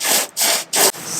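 Sanding of gel coat on a boat's bottom, with three broadband rubbing strokes in a steady back-and-forth rhythm, each separated by a brief pause, loud and close with no talk.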